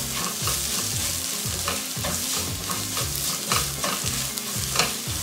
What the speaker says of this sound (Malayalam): നമുക്കിനി ഇത് നല്ലവണ്ണം വഴറ്റിയെടുക്കാം.